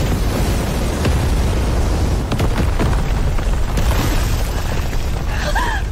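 Cannon blasts from a celestial fleet's main guns pound a protective magic array in a 3D animated xianxia battle, a continuous heavy booming barrage with sharp bursts and crackling debris, loud and dense throughout.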